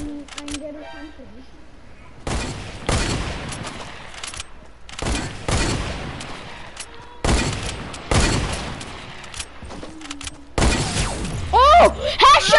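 Gunfire from the video game Fortnite comes in several loud bursts of shots spaced across the clip, with players talking excitedly between and over them.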